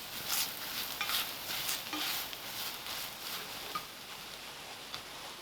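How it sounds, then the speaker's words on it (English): Sauces are stirred into a spicy chicken curry mixture in a pan, a soft scraping and sizzling with a few light spoon knocks, fairly quiet and steady, no voices. "Give this a good mix"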